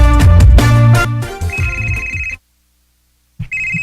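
Cellphone left behind ringing, a loud melodic electronic ringtone playing a busy tune, cutting to silence for a second before the ringing resumes.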